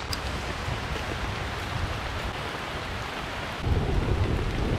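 Heavy rain hammers a tent and tarp at a campsite during a thunderstorm, a dense steady roar that swells louder near the end with deep rumbling, and no voices.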